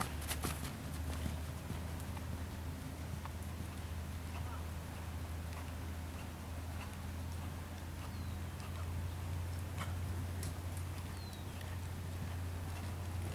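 Horse hooves plod steadily on an arena surface during a riding lesson, a faint continuous clip-clop under a low steady rumble and an instructor's voice.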